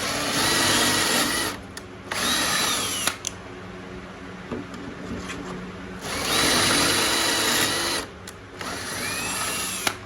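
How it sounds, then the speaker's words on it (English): A power drill whirs loudly, driving screws into the wooden base of a patio cooler, in long bursts of several seconds separated by short pauses, with the motor pitch slowing under load, close by and with no talking. "I did struggle putting these screws in"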